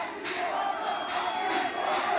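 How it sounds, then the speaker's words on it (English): A crowd at a Juggalo wrestling event giving an ovation: loud sustained roaring and cheering from a large audience, with repeated surging shouts rising over the din. "Wow, an ovation from this crowd."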